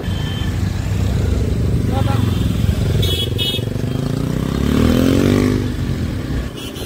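A KTM 200 motorcycle engine idles and revs nearby on a street outside a Yamaha dealership, a steady throbbing rumble with a rising rev swell near the end, mixed with other traffic noise.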